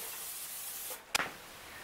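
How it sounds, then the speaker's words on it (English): Nonstick cooking spray hisses onto a pan in one short, sharp burst that fades fast, alone against a quiet background. "a nonstick cooking spray, but you can use olive oil or butter or whatever you like to use to make your pan nonstick"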